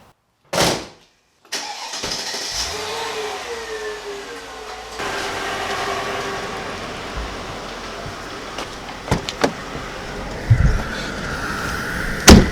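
Mercedes-AMG car starts up after a door sound, its engine catching and then idling steadily nearby, with a few clunks and knocks near the end.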